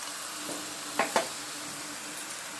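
Vegetables frying with panch phoron for a drumstick-flower (sajne phool) chorchori, a faint steady sizzle with a couple of brief stirring scrapes near the middle, otherwise quiet.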